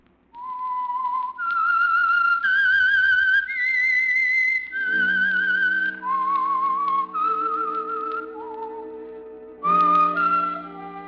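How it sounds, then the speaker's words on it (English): The Whistler radio show theme is whistled as a clear, eerie melody of sustained, wavering notes that glide between pitches, ending over a soft orchestral chord. "That whistle is your signal for the Signal Oil program, The Whistler."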